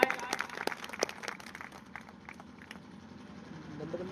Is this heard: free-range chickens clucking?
no